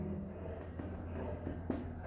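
Someone writes the chemical formula CH3COO on a board in a chemistry lesson, a series of short scratchy strokes in quick succession, close and clear, with a low voice murmuring beneath.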